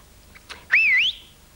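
A single short human whistle slides up and wavers, preceded by a faint breathy note, clear and close in an otherwise quiet space.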